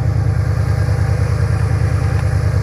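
A 2014 Ford F-250 with a 6.7-liter Powerstroke diesel, DPF deleted and straight-piped, idles after a cold start with a loud, deep, steady rhythmic chug close by and no talk.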